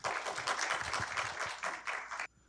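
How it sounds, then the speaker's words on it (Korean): Applause from a seminar audience welcoming a speaker, dense clapping that fills the room and then cuts off abruptly near the end. "큰 박수로 맞아주시기 바랍니다"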